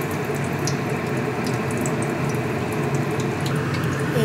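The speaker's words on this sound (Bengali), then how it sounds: "ডিম ভাজা হচ্ছে।" Eggs coated in turmeric and salt fry in a pan, giving a steady, even sizzling hiss that carries on unbroken and fairly close throughout.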